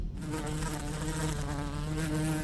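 Bees buzz in a steady, dense drone that stays loud and close throughout, with no voices over it.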